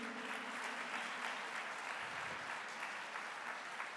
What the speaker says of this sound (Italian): Well, yes, we can applaud already.